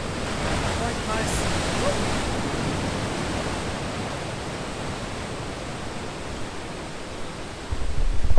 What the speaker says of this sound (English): I'm trying to catch all of the waves that are passing through the rocks